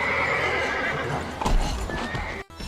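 A horse whinnies loudly over steady clip-clop of hooves, with a sharp burst near the middle and an abrupt cut just before the end; no one speaks.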